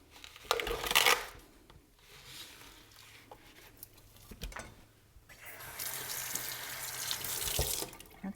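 Raw chicken is rinsed under a running kitchen tap, with water splashing and pattering into the sink in a couple of bursts, close and fairly quiet with brief pauses between.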